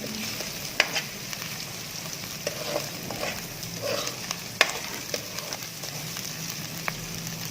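Potatoes frying and being stirred in a pan for achari aloo tinday, a steady sizzle broken by occasional utensil scrapes and clicks, close and moderately loud with no talking.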